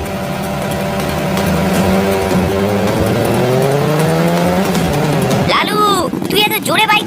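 Motorbikes race at high speed in an animated scene, their engines whining and rising in pitch with tire squeals, loud and continuous, ending in a burst of sharp, wavering noise.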